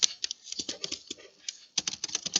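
Quick bursts of computer keyboard typing, close and fairly quiet, with a brief pause midway before the keystrokes resume.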